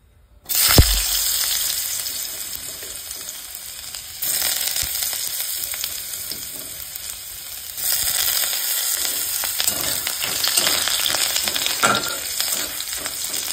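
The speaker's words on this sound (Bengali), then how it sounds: "কড়াইতে তেলও বসিয়ে দিয়েছি, সাদা তেল গরম হয়ে গেছে, দিয়ে দিই আলুটা আগে দিই।" Potatoes hit hot white cooking oil in a wok with a sudden burst of loud, steady sizzling that crackles on continuously, briefly shifting as they are stirred.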